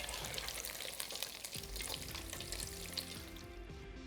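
Arancini (saffron risotto rice balls) shallow-frying in oil in a pan, with a steady close sizzle and hiss, followed by light clinks and taps of a utensil turning them.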